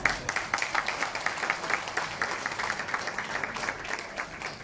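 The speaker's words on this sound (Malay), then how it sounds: "Tepukan untuk beliau." Applause from an audience at a Parti Warisan political gathering in Sandakan, welcoming the party president; a steady patter of many hands clapping, fairly close, with a slight swell at the start and no talk over it.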